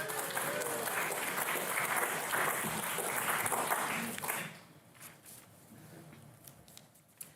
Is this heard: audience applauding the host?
yes